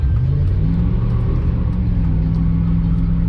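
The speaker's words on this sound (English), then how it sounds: "Holy shit, it's burning rubber." A tuned pickup truck with an upgraded tuner holds a loud, steady low engine drone as it burns rubber, its pitch rising slightly early on, close and continuous without talk.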